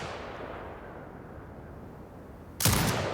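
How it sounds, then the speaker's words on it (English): Turret firing in the video game Sniper Ghost Warrior Contracts 2, a sudden loud blast cutting in after a stretch of steady low ambient rumble. "Exit binocular mode and command the turret to fire."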